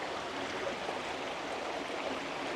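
A shallow forest stream in Wales, near an old colliery site, flows steadily as someone walks through it, giving a constant broad rushing and splashing of water with no breaks.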